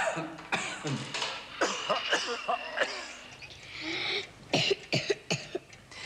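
Repeated coughing and throat clearing in a 1988 Dutch television advert for a cough remedy, a string of sharp close coughs and rasping throat sounds with brief pauses, some clustered toward the end.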